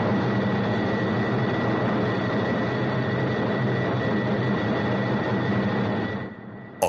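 A jet aircraft pushed past its critical Mach number, shaking violently in high-speed flight, makes a steady, loud, broadband roar that holds without a break, then drops away near the end.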